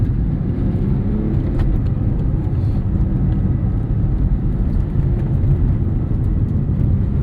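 Porsche 911 of the 996 generation driving uphill under hard throttle, its engine a loud, steady, dense rumble and whir with road noise, continuous throughout with no talk.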